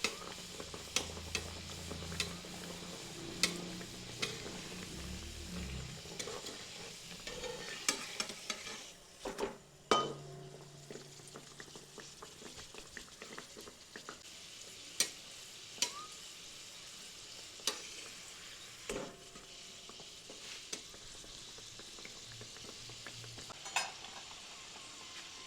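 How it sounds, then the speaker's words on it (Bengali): Chicken and flour pieces sizzle in hot white oil in a pan, a soft continuous frying hiss broken by occasional clinks and scrapes of stirring, quiet throughout. "এরপর ভালো করে লাল লাল করে দুদিকটি ভেজে নিচ্ছে।"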